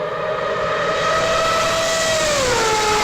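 Mazda 787 Le Mans race car with a rotary engine, a loud sustained high-pitched wail that holds steady and then drops in pitch toward the end, with no talk over it.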